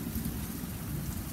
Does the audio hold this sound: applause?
no